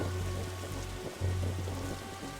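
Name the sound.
rain on a roof in a video game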